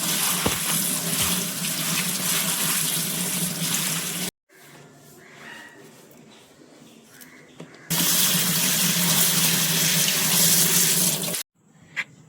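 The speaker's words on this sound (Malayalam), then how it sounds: "ഇനി ഇതെല്ലാം കൂടി ഒന്ന് നല്ലതുപോലെ കഴുകി നമുക്കെടുക്കാം" Amla, aloe vera, neem leaves and half an onion rinsed under a running kitchen tap, a loud steady gush of water that stops and restarts twice, with quieter handling noises in the gap.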